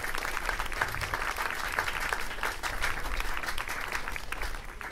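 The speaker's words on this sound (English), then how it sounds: "she deserves a round of applause." Steady applause fills the clip throughout, a dense, even clatter of many hands clapping for an administrative assistant during an outdoor band concert at a park festival, with no talk over it.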